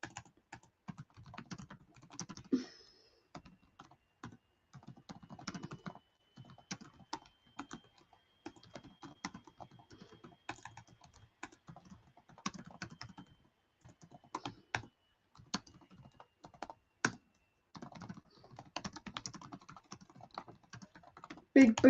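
Irregular clatter of keys on a computer keyboard, close and fairly quiet, running steadily with short pauses and occasional sharper taps, with no one talking over it.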